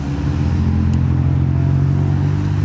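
A Nissan S15 rolls into a modified car meet, its engine a loud, steady low rumble close by that holds throughout the short stretch, with no talk over it.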